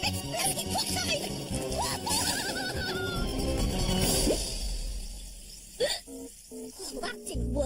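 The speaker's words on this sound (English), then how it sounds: "how am I going to get rid of these hiccups?" A cartoon character from Horrid Henry hiccups repeatedly between bursts of spoken dialogue, each hiccup a short sharp vocal catch, with music and sound effects in the background.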